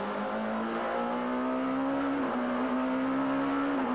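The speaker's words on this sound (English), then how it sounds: "we're now going to do a lap of the Le Vigeant circuit with uh, Yvan Muller" A 1994 BMW SuperTouring race car's engine holds a loud, steady high-revving drone from onboard through a lap of the Le Vigeant circuit at Val de Vienne, with a brief dip around a gear change before climbing again.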